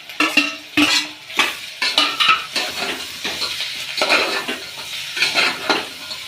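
A spoon scrapes and clatters against a pan as potatoes are stirred, with a soft sizzle of frying underneath; no talking.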